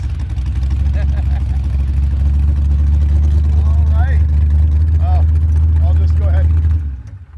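A 1985 C4 Corvette kart's engine roars steadily and loudly for about seven seconds while spinning donuts, with tire squeal rising over it, then cuts off abruptly; voices talk over the engine noise.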